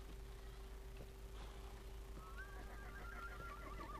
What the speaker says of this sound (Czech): Kuň!